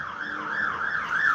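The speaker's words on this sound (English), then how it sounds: "you hear the sirens? Emergency." Emergency vehicle siren wailing in a smooth rising and falling pattern, steady and fairly loud throughout with no other sounds over it.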